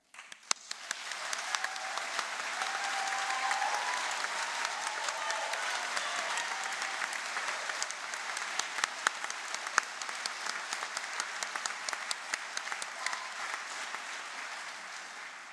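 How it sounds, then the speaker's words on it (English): Sustained applause from a large audience at a university graduation ceremony, steady and even throughout, with dense clapping and no pauses. "I want to give you the chance to clap and thank everyone"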